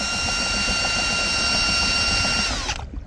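A cordless drill drives a homemade boat propeller, giving a loud, steady high whine with a constant tone that drops in pitch and cuts off abruptly near the end.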